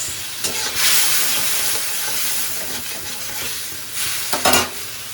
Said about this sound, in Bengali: এবার এটা একটু নেড়ে চেড়ে নিয়ে, একটুখানি নেড়ে চেড়ে নিয়ে এর মধ্যে লবণ দিয়ে দেবো